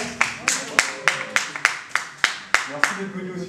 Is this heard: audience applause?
yes